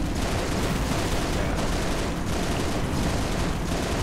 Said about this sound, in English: My minigun should whack him